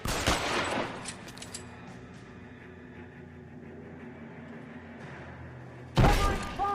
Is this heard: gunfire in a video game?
yes